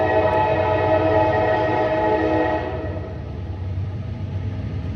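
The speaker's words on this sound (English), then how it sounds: "That's like the third damn train that's gone by in like less than 20 minutes." A train rolls past nearby, a loud continuous rumble with a steady rail drone and horn-like tones that drop slightly in level halfway through, no voices.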